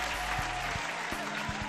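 Studio audience on a Nigerian talk show clapping, a dense steady roar of applause with a low hum and a few thumps running under it throughout.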